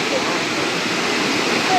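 A waterfall roars in a continuous, broad wash of noise at close range, steady and unbroken across the brief moment.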